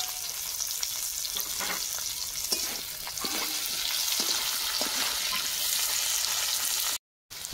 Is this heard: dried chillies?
yes